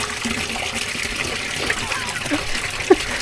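A Zoeller sump pump discharges water into a floor drain, a steady rushing, trickling flow with a small splash near the end, while people talk over it.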